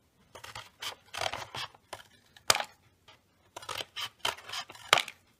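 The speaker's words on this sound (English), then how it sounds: "I'm just going to go ahead and cut them approximately 1/4 inch." Scissors snip through a flattened cardboard paper towel roll in quick, close, crisp cuts, several in a row, a short pause, then another burst.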